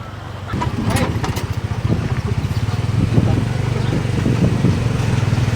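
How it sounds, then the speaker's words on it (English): Motorized tuk-tuk carrying passengers to the start of a bat cave tour, its small engine putting out a steady, rattling low drone that swells and bumps along a rough road, with faint voices now and then over the engine. "This is our tuk-tuk that's taking us to begin the tour."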